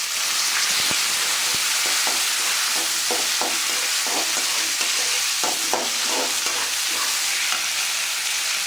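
Dried red chillies and onion fry in a pan, making a loud, constant hissing sizzle close up with repeated scraping strokes from stirring and no speech.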